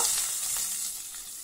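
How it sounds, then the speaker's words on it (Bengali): Fish pieces fry in oil in a wok with a soft, steady sizzling crackle that stays even and moderately quiet throughout the short stretch. "তো মাছগুলো ভাজা হয়ে যাক, তো কড়া থেকে আমি উঠিয়ে নেব"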